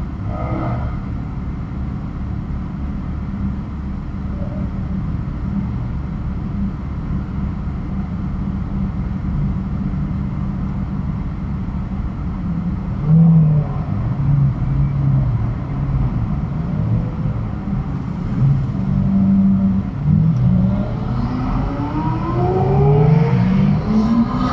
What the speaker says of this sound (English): Everybody's starting their engines.